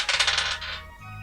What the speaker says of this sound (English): She's assembling arcane towers of dice.